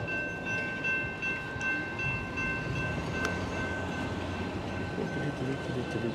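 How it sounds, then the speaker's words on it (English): Train passing at a railroad crossing, a continuous heavy rumble of rolling cars with a steady high tone and faint clatter, loud and close, heard from beside the tracks while someone waits on an e-bike. "This train sucks ass. I've been here forever."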